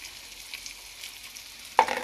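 Spinach and onions sautéing in a pan, a faint low sizzle that gives way to a sudden louder burst of stirring at the very end.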